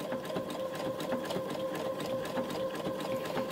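A sewing machine stitches a zigzag appliqué, its needle hammering in a fast, steady mechanical rhythm with a constant hum, close and alone.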